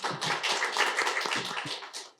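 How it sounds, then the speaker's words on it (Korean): Modest, fairly quiet clapping from a small audience at an AI policy forum, welcoming a National Assembly member who has just arrived; individual claps patter unevenly for about two seconds before fading. "박수 부탁드리겠습니다."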